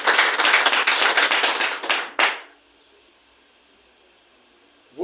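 A round of applause at a tribute ceremony, a crowd clapping briskly for honorees for about two seconds, then a final cluster of claps before it drops to quiet room tone.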